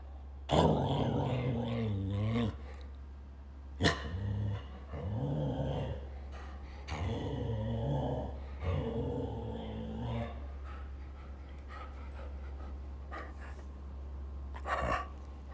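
A dog growls and barks in a home setting, with a throaty, sustained growl broken by sharp barks, fairly close and loud, mixed with a person's vocal barking aimed at it.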